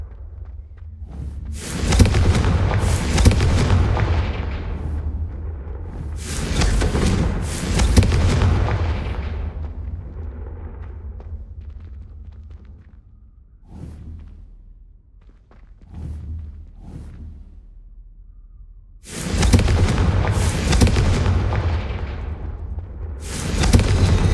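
Booming fire-spell explosions cast in Hogwarts Legacy, a loud burst near two seconds, another around seven to eight seconds, quieter thuds in between, then a heavy blast again near nineteen seconds with no talking.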